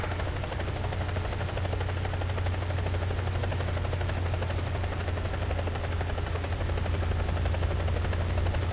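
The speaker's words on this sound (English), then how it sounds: "Here's a heli I haven't spent a ton of time in." A helicopter flies in the War Thunder video game, its rotor and engine droning in a loud, steady low hum with a fast throbbing pulse throughout.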